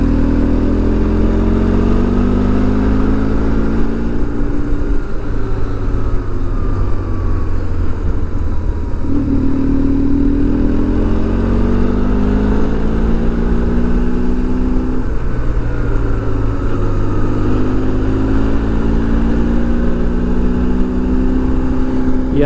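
Motorcycle engine while riding on a road, a steady close drone with slowly rising and falling pitch as the rider shifts through gears, continuous and loud throughout with no talk.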